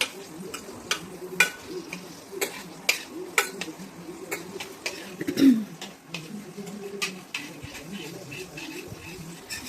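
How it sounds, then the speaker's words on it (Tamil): Onions sauté in a little oil in a pan for beans curry, a soft sizzle under repeated knocking and scraping of a spoon stirring against the pan, with a faint cough or throat-clear midway. "அப்புறம் வெங்காயம் நல்லா வதக்கிக்கோங்க"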